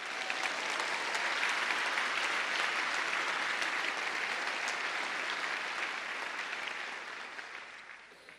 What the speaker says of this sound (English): I want you to applaud for the Toronto Raptors.